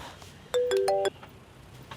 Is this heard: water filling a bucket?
no